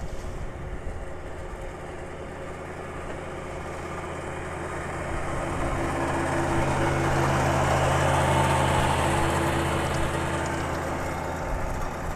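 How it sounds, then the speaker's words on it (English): A beach-raking tractor on the sand at Pelican Bay in North Naples, Florida runs its engine as it passes, a low steady rumble that swells gradually as it draws nearer over a background of wind and surf. "tractor from Bay Colony in Pelican Bay. They rake their beach out."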